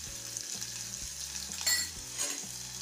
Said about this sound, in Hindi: और पहले प्याज को हल्का भून लेते हैं।